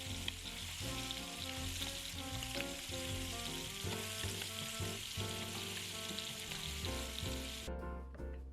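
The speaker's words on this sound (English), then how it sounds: "Add a little bit of butter, clove of garlic, and then just let them cook on that side for like 1 minute." Butter and a clove of garlic sizzle in a pan, a soft continuous frying hiss lying under steady, louder background music for the whole stretch.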